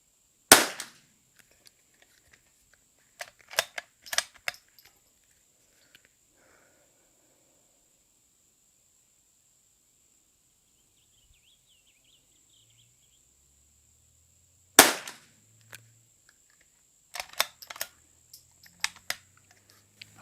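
A Zermatt Arms RimX rifle fires at targets on an outdoor range, with sharp single cracks, a few spaced shots early and later a short string of rounds, separated by long quiet stretches.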